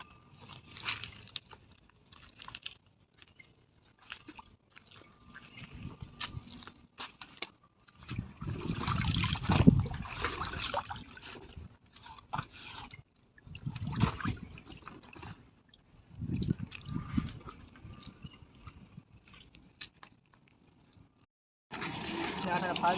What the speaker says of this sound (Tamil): இலை கழுவி எடுத்துக்கலாம். தொட்டியில் தண்ணி இருக்கு.